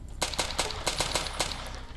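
HK G3SG1 battle rifle from a Fallout: New Vegas weapon mod, firing six or seven sharp, loud shots in a steady semi-automatic rhythm with brief echoing tails between them.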